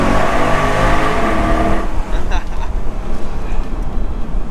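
Mercedes SLK 55 AMG V8 convertible, top down on a sunny morning drive, engine revving loud and close, then dropping back to a lower rumble after about two seconds.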